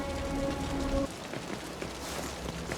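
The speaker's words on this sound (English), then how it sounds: "The rain's getting heavier." Steady rain pours down in the video game Wuthering Waves, a dense, even hiss of drops on surfaces that fills the whole clip with no speech.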